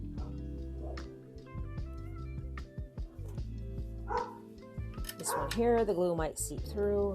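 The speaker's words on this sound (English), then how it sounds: "Apologize if you hear my dogs barking." Several dog barks and yips ring out under a person's steady talking, some sharp and close, clustering toward the end.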